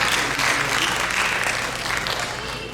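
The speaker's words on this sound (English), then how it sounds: "Round applause for Neera Chakraborty right here." Dense, steady applause from a Diwali festival audience on a stage, a continuous wash of many hands clapping at even volume with no talk over it.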